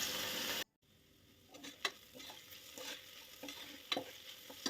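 Onions and green chillies sautéing with ginger garlic paste for mushroom biryani give a soft, low sizzle after an abrupt cutoff of louder noise, punctuated by scraping stirs of a spoon in the pan.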